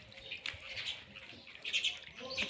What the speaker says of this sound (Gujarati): ચકલાઓ જો બાજી રહ્યા ચીંચી કરતા.